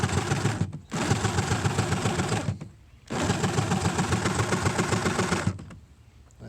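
A small electric motor drives a homemade powered sifter for compost or soil, whirring and rattling loudly in two long bursts, each stopping briefly before the next start, with a quieter gap at the end.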